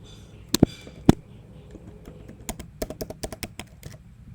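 Typing code on a computer keyboard, irregular clicking keystrokes with a few louder isolated taps early, then a quicker run of clicks, close and alone without speech.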